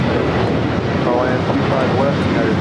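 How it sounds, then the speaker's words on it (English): Sun Country Airlines Boeing 737-800 taking off at LAX, a steady broad jet roar heard from a distance with a person talking over it. "This is Sun Country Airlines 8501 taking off to Kailua, Kona on a 737-800"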